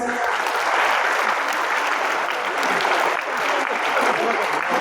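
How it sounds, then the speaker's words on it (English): Children at an abacus competition clap together for their parents, a loud, steady, dense burst of many small hands lasting several seconds with some voices underneath. "Children, please clap for the parents."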